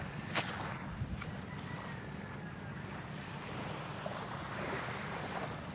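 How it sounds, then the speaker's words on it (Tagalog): Calm sea at a beach with gentle, steady wash of small waves and light wind, faint and continuous with no voices. "Kasi kalmado lang ang dagat."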